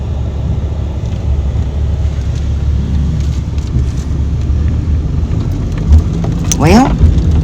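Car driving across a creek at a free campground in Alaska: a steady low engine rumble with rushing, splashing water close by, rising near the end, with some talk mixed in.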